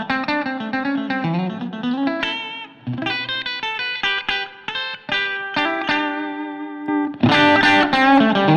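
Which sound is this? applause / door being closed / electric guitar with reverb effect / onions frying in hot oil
electric guitar with reverb effect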